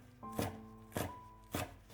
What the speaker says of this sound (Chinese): 下面准备几颗香菜， 给它切成小碎丁。